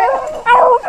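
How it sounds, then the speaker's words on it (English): A bluetick hound bays during a rabbit hunt outdoors, two short, loud, close howling barks in quick succession. "That daggone blue tick dog"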